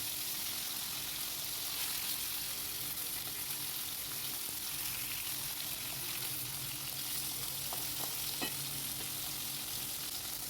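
Hilsa fish shallow-frying lightly in hot oil gives a steady, close hiss of sizzling that carries on unbroken, with a few small crackles and pops near the end and no talking.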